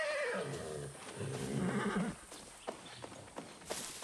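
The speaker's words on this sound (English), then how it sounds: "I might use this horse." Horse in the Far Cry 6 video game, with a short whinny at the start and then a few scattered clip-clop hoof steps over faint game ambience.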